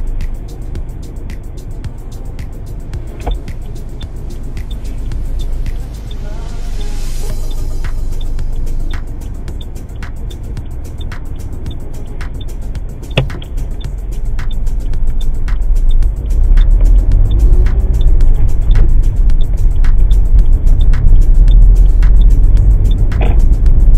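Interior of a car driven on a mock driving test, a low engine and road rumble that swells as speed builds, with faint ticking indicator clicks and a few soft thumps.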